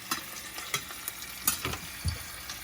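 A ham and cheese sandwich frying in a hot pan, a soft steady sizzle broken by several sharper taps and scrapes, close and fairly quiet.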